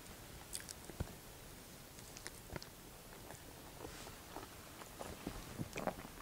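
Someone chews and bites through a serving of cali fries, with soft, close, irregular crunching and squishy mouth sounds spread across the stretch and no talking.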